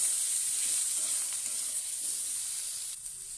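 Steady sizzling of spices frying in a pan with salt, turmeric and cumin powder, a close, even hiss with faint stirring, for a fish curry with potato, lumps of dried lentil paste and kohlrabi; no voices.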